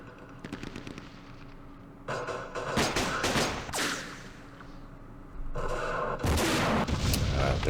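Recoilless rifle fire and other weapons in the Vietnam War wargame Operation Starlite, several loud booming blasts spaced a few seconds apart over a low continuous background.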